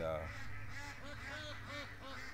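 A duck quacks in a rapid series of short nasal calls, fairly close but modest in level, over a constant low background hum.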